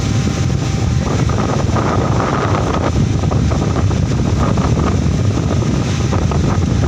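Steady, loud wind buffeting the microphone over open sea from a boat, with a continuous rushing roar and faint sloshing of waves beneath, no voices.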